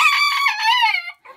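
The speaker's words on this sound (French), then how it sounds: "on entend le papa qui fait le gros cocorico et son petit garçon qui fait des petits cocoricos" A rooster lets out a single loud, close cock-a-doodle-doo lasting about a second, followed by a brief, fainter call right after.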